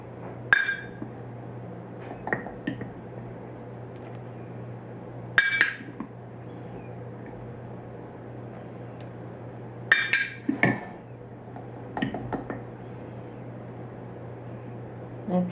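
A half-cup measuring cup scoops flour in a home kitchen. Sharp clinks and taps of the cup against a container come in scattered bursts over a low steady hum, with quiet gaps between scoops.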